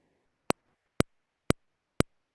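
A beat-making sequencer plays one measure: four sharp, identical clicks spaced evenly half a second apart, each crisp and isolated against near silence.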